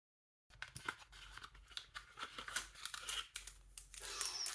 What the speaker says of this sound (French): On va commencer à ouvrir la première petite boîte.